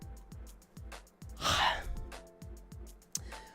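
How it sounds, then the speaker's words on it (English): A single drawn-out, breathy yawn rises and fades over a quiet background of rhythmic ticking pulses. "I can't stop yawning."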